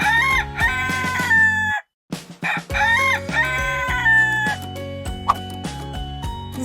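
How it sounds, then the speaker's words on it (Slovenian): A farm rooster crows loudly and close, twice in succession, with a short pause between the crows and a few clucks after. "Petelin, petelin."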